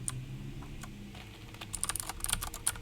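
Budget keycaps are pressed onto a mechanical keyboard, giving soft, scattered plastic clicks and taps that grow busier toward the end, close and quiet.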